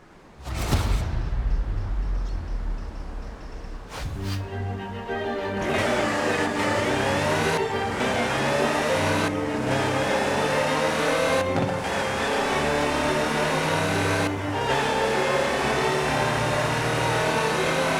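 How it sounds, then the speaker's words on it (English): A Land Rover Series III in Forza Horizon 4 starts with a short burst, then its mid-range engine revs up repeatedly in rising, stepped pulls through the gears, loud and close. Brief dips mark each shift. "The next segment is about Land Rover, and we'll be starting out with the Type 3."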